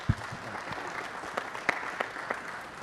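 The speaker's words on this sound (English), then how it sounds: "let's give Rhonda and all of Arts for All a big round of applause" Scattered applause from a modest crowd at a city council meeting, fairly faint and sparse with a few sharper individual claps standing out against room noise.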